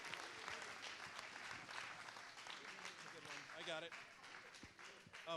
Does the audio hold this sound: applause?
yes